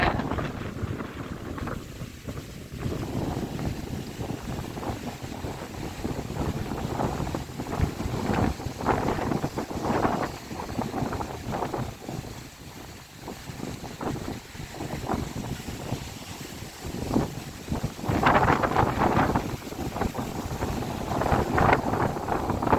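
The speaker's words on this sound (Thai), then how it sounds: "ลมพัด" Strong, gusty wind roars steadily through trees with rising and falling blasts, a dense rushing noise close to the microphone, with no talking.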